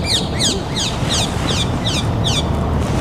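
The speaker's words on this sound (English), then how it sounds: "Very, very sort of Australian type bird sound, isn't it?" A parakeet repeats a sharp, bright chirping call about eight times in a steady rhythm, fairly close and clear above a constant low background rumble.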